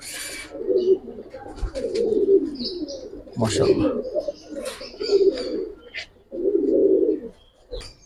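Pigeons coo in a loft of old-breed Giribaz flying pigeons, their low rounded coos repeating in bursts through the clip, close and fairly loud, with faint chirps and rustling between them.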